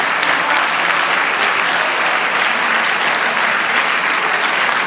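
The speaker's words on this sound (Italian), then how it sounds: "Un applauso." An audience at a public talk by astronaut Samantha Cristoforetti in Oderzo, Italy, breaks into loud, sustained applause, a thick unbroken wash of clapping hands from start to finish.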